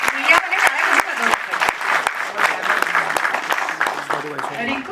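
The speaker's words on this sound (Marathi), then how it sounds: "जोरदार टाळ्या, टाळ्यांचा आवाज फार कमी आहे" An audience applauds at a Marathi film event featuring actress Rinku Rajguru, a dense burst of clapping with sharp individual claps and voices talking over it.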